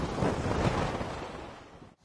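While a paraglider flies over Colorado, a gust front buffets the microphone with a loud, rough roar of wind that stays strong for most of two seconds before dropping away abruptly.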